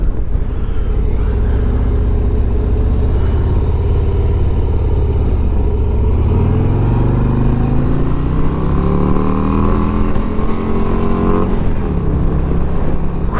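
A 2023 Harley-Davidson Street Glide ST out on a ride gives a loud, continuous V-twin drone with rising gear-pitch sweeps as it accelerates, a mid-ride drop, then more acceleration, alone without talk.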